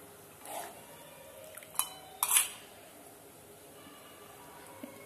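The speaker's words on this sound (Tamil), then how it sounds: "இப்போ இந்த ராஜ்மாவை சேர்த்துக்கலாம்" Rajma beans being added to masala in a pan and mixed, giving a few brief metallic scrapes and clinks of a spoon against the pan at irregular intervals over a quiet background.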